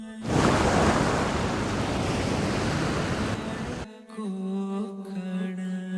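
Sea waves on the Devgad coast in Konkan, Maharashtra, roar as loud, continuous surf with wind, then cut off abruptly, giving way to a steady tonal, music-like sound.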